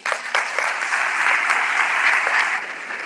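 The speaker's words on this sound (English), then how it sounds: "so a round of applause to them" Audience applauds teachers and a team at a Saturday Grade 11 maths session, a steady burst of many hands clapping for about three seconds, fairly close and loud with no talking over it.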